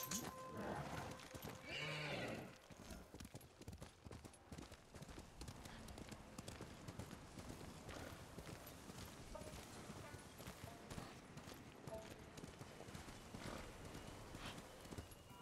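Horse hooves clip-clop steadily with a loud whinny near the start, sound effects from the video game Ghost of Tsushima under a voice talking.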